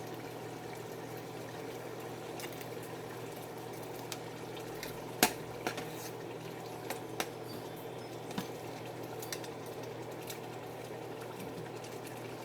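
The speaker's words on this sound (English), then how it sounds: "I'm going to let it simmer a little bit more." Chicken stew simmers in a pot, a low, steady bubbling hiss with a few faint clicks and pops, quiet and even throughout, with no voices.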